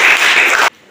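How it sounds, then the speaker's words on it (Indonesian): Classroom applause rises as a dense burst of many hands clapping together, loud and close, and cuts off abruptly after under a second. "tepuk tangan untuk Ipeng."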